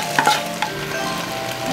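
Paprika is stir-fried in a pan for a children's heart-shaped curry rice, with a loud, steady frying hiss, a few sharp utensil scrapes and clicks near the start, and no talking.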